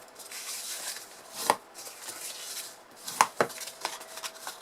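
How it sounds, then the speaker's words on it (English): A blade cuts wedges from the corners of a box lid, a few sharp isolated snips and clicks against a quiet background. "Cutting those wedges out of the corners just the same as we do."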